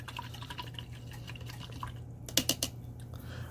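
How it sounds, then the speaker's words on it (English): A paintbrush is rinsed in water with faint, close dripping and light splashing, including a short cluster of small drips partway through over a low background hum. "I'm going to rinse out my brush."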